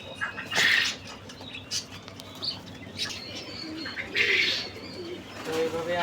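Pigeons coo softly and repeatedly while being given calcium medicine, with low, throaty calls and a few brighter chirps or wing flutters against a steady background hum.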